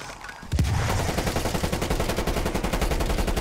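Rapid automatic gunfire in a shooter video game, a loud, dense burst of fast repeated shots that starts abruptly and keeps up without pause.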